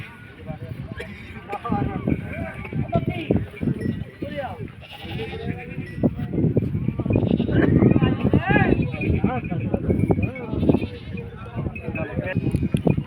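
Goats bleat repeatedly at a busy goat market, several wavering calls close by and overlapping with people talking loudly throughout.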